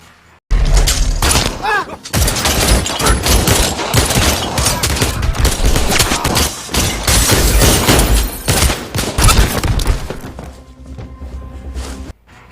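Heavy automatic gunfire in an action film scene, with dense rapid bursts and thuds that continue loudly for about ten seconds before fading out.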